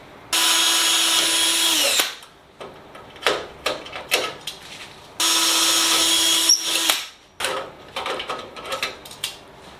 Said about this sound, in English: I have to drill some pilot holes that are going to come through on this side.